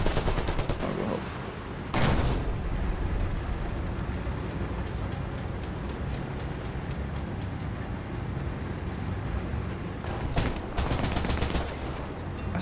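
Machine gun fire in War Thunder, rapid rattling bursts at the start and near the end over a steady hissing rain-like background, fairly distant and moderately loud.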